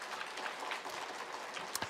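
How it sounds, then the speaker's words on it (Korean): A church congregation claps during a sermon, a fairly quiet, continuous patter of many hands with a few sharper claps near the end. "우리 예수님 위해서 박수 한번 쳐드리세요"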